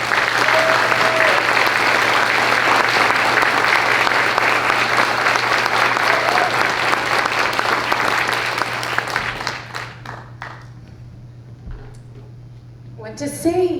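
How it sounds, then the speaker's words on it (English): A large workforce development event audience bursts into loud, sustained applause with a few cheers, the clapping holding strong before thinning out to scattered claps near the end. "another round of applause from everybody"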